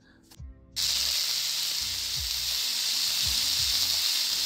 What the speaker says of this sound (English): I'd definitely like to have a sear on this bad boy, so I'm gonna follow the Meater instructions and we're gonna get a sear on it